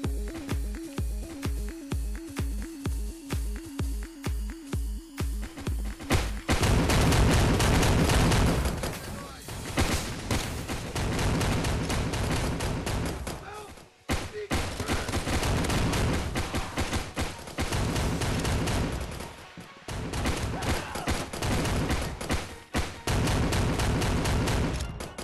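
Heavy gunfire from a .44 Magnum in a mobile first-person shooter pounds repeatedly, opening with a steady rhythmic series of shots and then turning into dense, loud, overlapping bursts that continue almost without pause through the clip.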